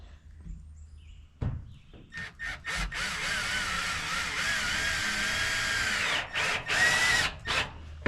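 A power drill whirs in sustained bursts, driving pointed screws into thick steel soffit and fascia framing on a lakehouse build. Close, loud runs of several seconds alternate with short stops and restarts, with a thud at the start and no talk.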